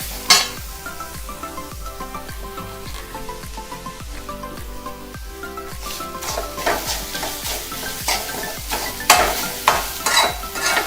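Grated coconut and crushed garlic fry in a pan with a loud, steady sizzle while a utensil scrapes and stirs in quick repeated strokes that grow busier toward the end.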